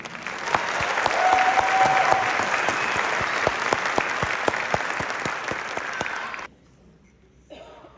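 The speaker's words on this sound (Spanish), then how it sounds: "Con un gran aplauso recibamos al Ballet Folklórico de Álvaro Muñoz." An audience applauds to welcome a folk ballet troupe at a folklore dance showcase, with loud, sustained clapping that cuts off abruptly near the end and is followed by a brief lull and a faint return.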